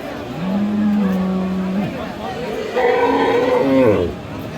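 Friesian cows at a village cattle market in Dinajpur give two long, loud moos in succession, the second higher and rougher, with faint crowd murmur behind.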